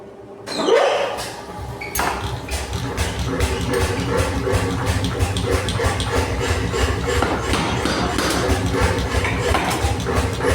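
A power hammer forges a 10 mm square steel bar into a small ring-shaped piece for fireplace tool parts, producing a loud, steady train of rapid metallic blows that runs through the whole stretch after a brief quieter opening.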